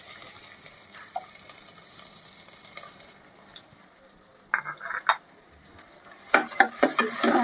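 Chopped onions fry in hot oil with a soft, even sizzle. Clustered scraping stir strokes grow louder toward the end, heard up close with no talking.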